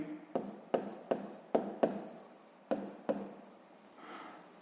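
Pen writing a sixth-grade maths solution on paper: a series of short scratchy strokes in quick bursts, close and fairly quiet, with brief pauses between words and a softer rub near the end.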